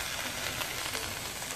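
Soy sauce and fish sauce vegetable dish being stirred in a hot pan, giving a steady close sizzle and frying hiss with faint scraping, no talk.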